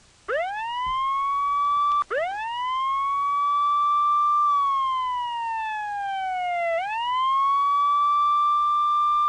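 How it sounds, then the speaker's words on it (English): An ambulance siren sound effect wails loudly and continuously, its electronic pitch sweeping up and down in long glides with brief breaks, heard alone without any talking. "This is an MP3 file of an ambulance."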